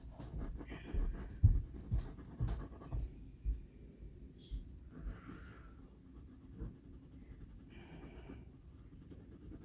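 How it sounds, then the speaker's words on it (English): A dark charcoal pencil scratches and rubs across paper in short irregular strokes, close and quiet, with brief pauses between strokes. "I'm going to switch now to a darker charcoal pencil to get some of the dark"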